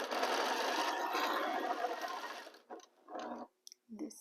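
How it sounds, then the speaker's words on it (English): A sewing machine runs a quarter-inch seam in a steady whir for about two and a half seconds, then sews in two shorter bursts with pauses between, close and loud. "start sewing. We sew using a 1/4 inch seam allowance"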